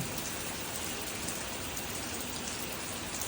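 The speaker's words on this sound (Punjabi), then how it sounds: "ਇੰਨਾ ਜ਼ਿਆਦਾ ਮੀਂਹ ਪੈ ਰਿਹਾ ਤੁਸੀਂ ਦੇਖੋ ਪੂਰਾ ਮੀਂਹ ਪਈ ਜਾਂਦਾ" Heavy rain pours down steadily in a village on a December day, a dense, continuous hiss of drops striking surfaces, loud and close with no gaps and no voices.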